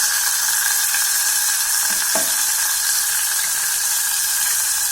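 Tomatoes sauté in a pan for a knol khol rice dish, giving off a steady, even sizzling hiss that holds unbroken throughout, with a faint brief clink partway and no talking.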